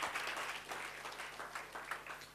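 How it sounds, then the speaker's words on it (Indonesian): Church congregation applauds in a steady, faint wash of clapping that continues evenly through a short stretch, with a low hum underneath. "Kasih tepuk tangan buat Tuhan Yesus"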